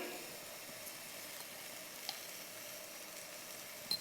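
Peas and cauliflower sizzle steadily in an oily onion-tomato masala, a low continuous frying hiss with one or two faint clicks and no voices.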